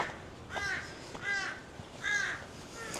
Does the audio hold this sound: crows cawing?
yes